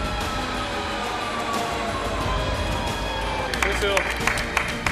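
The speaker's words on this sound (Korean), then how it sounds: "동료 후배들의 박수로 그를 맞는다." Military colleagues clap to greet a pilot stepping down from a TA-50 trainer jet after landing, with the scattered claps growing sharper near the end under ongoing talk and outdoor background noise.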